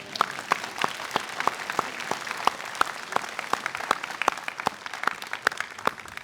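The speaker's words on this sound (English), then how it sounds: "You can clap for them." A graduation ceremony audience gives modest, steady applause for the graduates, with a few distinct loud claps standing out rhythmically above a softer, sparse background of clapping.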